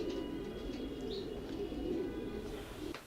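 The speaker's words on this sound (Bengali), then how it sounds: "আপনাদেরকে আমরা আমাদের রেসিং পিজনগুলো দেখালাম" Racing pigeons coo softly in a loft, a low, rolling murmur of overlapping coos with a few faint chirps above a quiet background.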